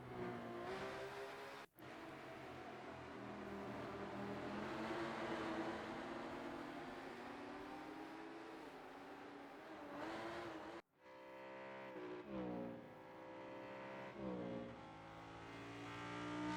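Race cars from the RENNSPORT racing game at Spa-Francorchamps, including Audis and Porsches, roar continuously with rising and falling engine tones. A brief cut near two seconds and a sharper break near eleven seconds precede a new layered whine of several engines.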